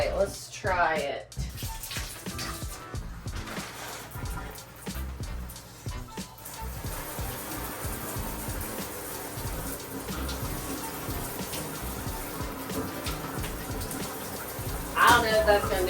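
Water runs steadily from a cabin shower fitted with a newly installed filter, a broad continuous spray and splash that lasts throughout, with a brief louder burst near the end.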